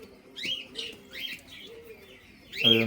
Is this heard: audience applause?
no